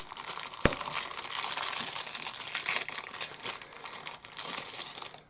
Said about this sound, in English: these aren't heat sealed bags, so I'm going to cut it open